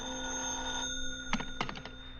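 Telephone ringing indoors, a steady electronic bell tone that cuts off, followed by a few soft clicks and clatters as the handset is picked up.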